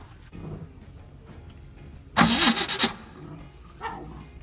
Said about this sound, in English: we're gonna test it by crossing the leads and see if the car will crank or not